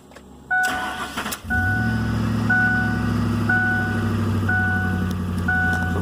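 A Ford F150 4x4 pickup cranks briefly and fires up, then settles into a steady, loud idle close by while a repeating electronic chime beeps at regular intervals.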